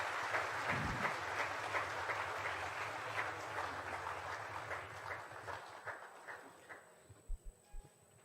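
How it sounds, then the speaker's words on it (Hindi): Loud applause fills a hall at a felicitation ceremony for Dr. Brijesh Dixit, a dense, sustained clapping that slowly thins and fades, ending in a few scattered claps. "एक बार जोरदार तालियों से हाल गूंज जाए ऐसा आवाज चाहिए।"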